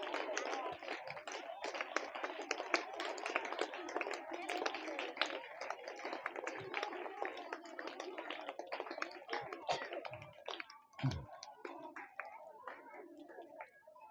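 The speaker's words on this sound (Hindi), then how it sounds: "जोरदार ताली बजाए करिए" An audience at a Hindi motivational storytelling talk claps in a dense, loud burst of many hands, holding steady for most of the stretch before thinning toward the end.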